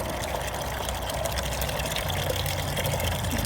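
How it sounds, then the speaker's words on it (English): A small pump moving comfrey compost tea out of a bucket into a hose and sprayer, running with a steady motor hum under a continuous gushing flow of liquid, close and even. "the pump is set up to pump it out of the bucket into a hose and into my sprayer"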